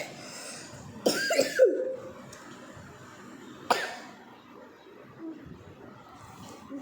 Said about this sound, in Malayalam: എനിക്ക് ചുമയുണ്ട്.